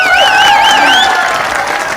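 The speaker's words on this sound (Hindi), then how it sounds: "तालियों से इन दोनों प्रवक्ताओं का सम्मान करें, स्वागत करें" Audience at a Hindi comedy poetry show (hasya kavi sammelan) breaking into loud, close applause and cheering, with shrill whistles rising over the clapping for a couple of seconds.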